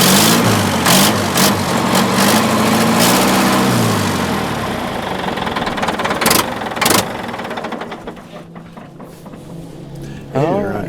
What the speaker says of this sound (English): the engine runs great